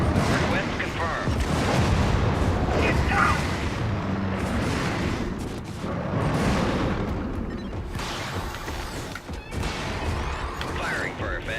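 Artillery called in as a stratagem in a shooter game pounds the area with repeated heavy booms and crashing impacts, loud and rolling one after another, with voices speaking over the barrage.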